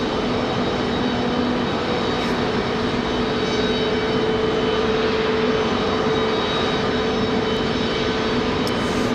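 A Frontier airliner's jet engines drone steadily as it sits taxiing toward the gate at Raleigh-Durham airport, a continuous loud roar with a sustained low hum and no pauses.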